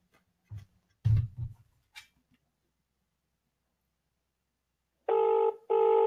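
A few soft thumps and clicks, then a pause before a telephone ringtone sounds in two short, loud electronic bursts.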